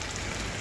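Ground pepper and cumin sizzle in a hot pan for rasam, a short steady crackling hiss like fine rain, close and unbroken.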